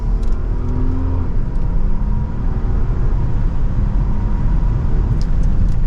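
A 2023 Range Rover P440e SE plug-in hybrid accelerates hard from second gear on the road, giving a loud, steady engine roar and whir heard from inside the cabin with no talking.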